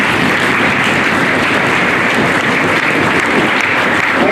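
Audience applause at an award ceremony in India's parliament, a dense continuous wash of clapping from many hands, loud and steady throughout with no voices over it.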